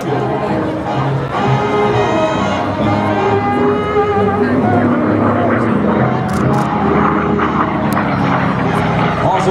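An F4U Corsair propeller fighter plane performing at the Keesler Airshow in 2015, its engine a loud, continuous droning roar throughout, with crowd voices and chatter mixed underneath.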